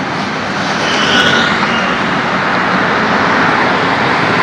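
A fixed-wing airplane passes overhead near a floating hotel in Thailand, a steady broad engine roar that holds loud and even throughout, with no voices.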